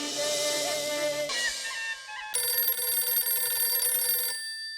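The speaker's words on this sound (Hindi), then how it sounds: "ये दया हमेशा काम के टाइम पे फोन करती है" A telephone rings in a TV sitcom scene, sounding a loud electronic ringtone in repeated bursts with a short gap before a sustained final ring, alone without talk.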